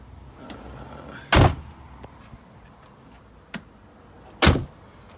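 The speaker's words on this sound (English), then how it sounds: "So I just shut the door." Two loud, sharp slams a few seconds apart, each a heavy solid thud of a Volkswagen T6 van door shutting, with a few faint clicks between them and no talking.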